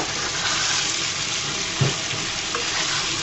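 Fried okra and slit green chilies go into sizzling oil in a pan, giving a loud, dense, continuous frying hiss with one brief thud of the vegetables landing partway through.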